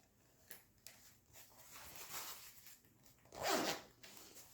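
A small zipper on a handmade coin purse is handled up close at low volume, with faint scattered clicks and rustles building to a short, brighter zipping pull near the end.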